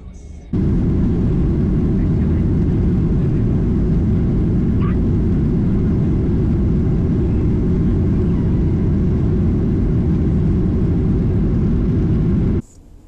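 An airplane taking off in Spain gives a loud, steady, close roar with deep rumble that holds for about twelve seconds before cutting off abruptly.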